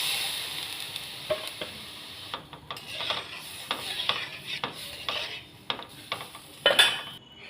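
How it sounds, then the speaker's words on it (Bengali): Boiled arhar dal is poured into a hot frying pan, setting off a soft sizzle punctuated by scattered scrapes and clinks of a utensil against the pan, close by and moderately quiet. "এবার ডালটা ঢেলে দেবো"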